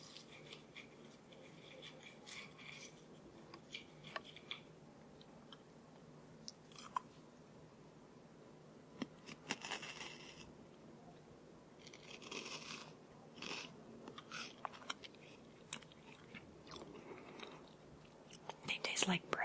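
Crunchy, light, bread-like salted snacks being chewed close to the mic, with soft irregular crunches and bites scattered throughout, a few sharper crackles standing out against a quiet, whispery background.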